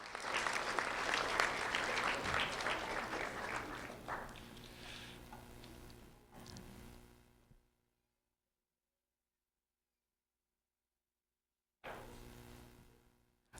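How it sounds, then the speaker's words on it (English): A school audience applauds a 5th grade student at a Tropic Isles Elementary recognition event, steady dense clapping for about seven seconds that fades into silence, then a fresh burst of applause returns near the end. "a round of applause for Taylor Seal"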